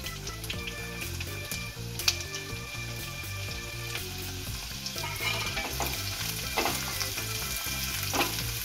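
Onion and green chili fry in hot oil for a spinach stir fry, a steady, close sizzle with crackling pops and occasional stirring scrapes, no voices.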